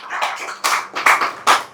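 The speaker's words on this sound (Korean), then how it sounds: "박수요, 박수, 박수, 박수." Congregation clapping hands in a church service, a few loose sharp bursts of claps rising and falling over under two seconds, moderately loud and fairly close, with no voices.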